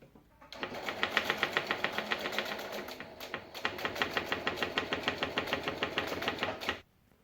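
A sewing machine runs in two steady bursts, rapid even needle clatter close up with a short pause in between, stitching across fabric for a lined box zipper pouch.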